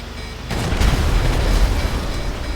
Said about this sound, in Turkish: Ses çıkıyor tanktan.